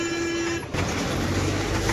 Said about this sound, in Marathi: we have reach Matheran toy train railway line,